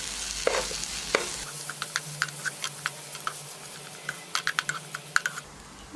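Grated coconut being sautéed in a pan for a bread and banana snack: a quiet run of light, dry clicks and scrapes from stirring, spaced irregularly and close by, with only a faint low sizzle underneath.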